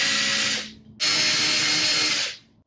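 A large power drill driving beadlock screws into a wheel, two whining bursts of high-pitched motor spin separated by a short pause, loud and close with no talk.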